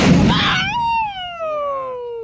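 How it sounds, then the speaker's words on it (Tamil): A paper roll firecracker explodes in a loud, close burst, followed by a long, falling whistling whine that fades over about two seconds. "பேப்பர் ரோல் பெரிய வெடி ஐயோ நோந்து நோந்து சவுண்ட் பயங்கரமா இருக்கும்"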